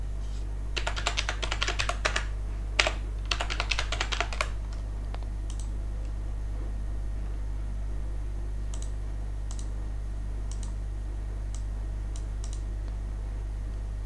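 Quick bursts of keystrokes on a computer keyboard as a password is typed, followed by a few scattered single key presses over a steady low hum.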